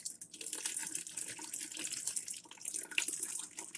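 Tap water running over used tea bags to rinse out more tea, a close, continuous hissing splash with no talking.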